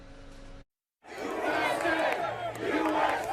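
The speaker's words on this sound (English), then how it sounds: "Look closely at this crowd of demonstrators in Boston today." A large crowd of demonstrators protesting in Boston, a dense roar of many voices and shouts that cuts out briefly near the start, then returns loud and sustained.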